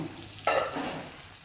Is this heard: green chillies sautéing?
yes